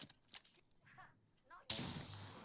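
Gunfire in the Apex Legends video game starts abruptly after a quiet stretch of faint voices and game sounds, then becomes a loud, sustained burst of shots.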